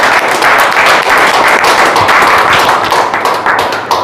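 Loud, dense applause from an audience welcoming a speaker to the stage at a traditional healers' training camp, steady close clapping that lasts the whole stretch and tapers slightly at the end.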